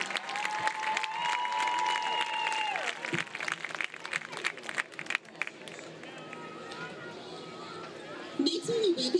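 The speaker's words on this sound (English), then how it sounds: "Please give all of our football seniors a huge round of applause" High school football crowd applauding the team's seniors at a Fayetteville versus B.B. Comer game night, a busy roar of clapping and cheering with a sustained tone riding over it early on, fading into chatter.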